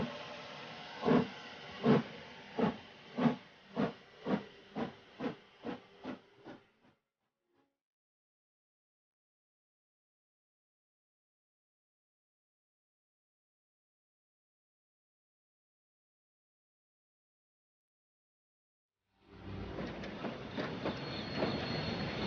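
A steam train in a story set in Bombay: a slow series of rhythmic chuffs that gradually quicken and fade away, followed by a long silence, then a steady hissing, rumbling rolling noise.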